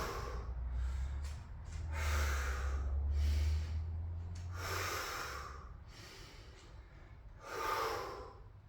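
Heavy, rhythmic breathing from a person doing a leg workout in a home garage gym, with loud snorting exhales and gasps repeating every couple of seconds, close to the microphone and with no talking.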